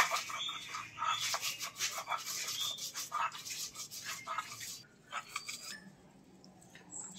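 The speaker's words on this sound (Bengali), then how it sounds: "স্বাদ মতো লবণ দিয়ে এখন আমি এগুলো বেটে নেব।" Shidol paste is ground by hand with salt, giving close, uneven scraping and rubbing strokes with brief pauses and no talking.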